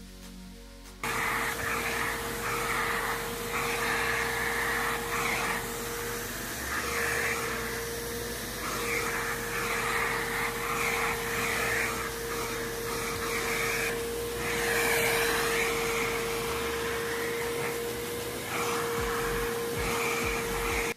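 A Green Machine carpet cleaner runs on a fursuit head with a steady, close-up vacuum whine and a constant tonal hum, its airflow roar swelling and dipping slightly as the brush moves, with no talking.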